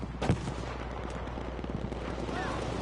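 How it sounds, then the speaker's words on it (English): Distant explosion in a multiplayer shooter match, a single low boom early on amid scattered gunfire and battle noise, with a commentator talking throughout. "big explosion off in the distance"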